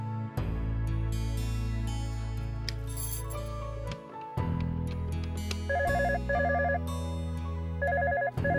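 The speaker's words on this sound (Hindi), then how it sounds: "इस वक्त किसका फोन हो सकता है?" A telephone rings in a Hindi TV drama scene, with an electronic ringtone repeating in short tonal bursts over a steady musical backdrop and no speech.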